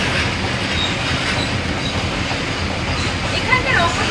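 A train rushes past close by with a dense, loud roar and rattling wheels, and a brief squeal of metal near the end.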